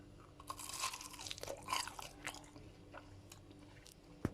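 Close crunching bites into crisp fried tulumba dessert, a few crackly bursts followed by softer chewing, with a sharp click near the end.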